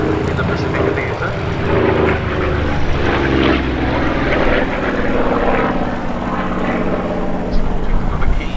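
Corsair and Bearcat piston-engined fighters fly at the Duxford Summer airshow, a loud, continuous propeller drone that rises and falls slightly as the planes pass, with a voice speaking over it.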